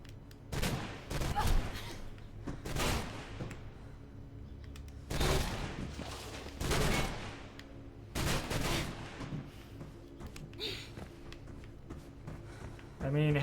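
Sniper gunfire in the Mirror's Edge video game: several sharp shots at irregular intervals, each a loud broadband crack, with speech and game ambience between them.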